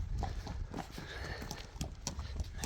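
Young horse's hooves clip-clopping in a steady, close series of hoof strikes on the ground, loud and continuous throughout, with no voices over it.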